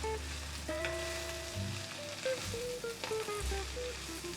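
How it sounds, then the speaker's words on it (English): Fresh garlic and kale sauté in butter, a soft, low sizzle with faint stirring and a few clinks, heard close but quietly with tonal background sounds mixed in. "With the fresh garlic sauteing in the butter"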